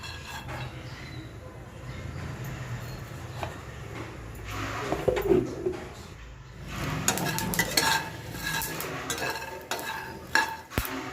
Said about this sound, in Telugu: వేయించుకొని పక్కన పెట్టుకోవాలండి వేరుశనగపప్పు.